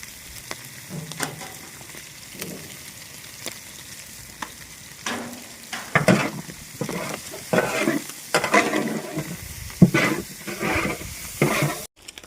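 Goat tripe and kabuli chickpeas frying in a pan with blood added, stirred hard so a spatula scrapes and clacks in uneven bursts over a continuous sizzle, loud and close.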